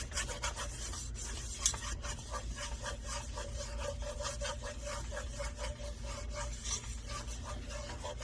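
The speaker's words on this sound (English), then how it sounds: "to continually stir this till it becomes incorporated together" Roux and milk being stirred steadily in a pot for seafood mac and cheese, a soft continuous scraping and rubbing of the spoon against the pot that keeps a close, even rhythm with no talking.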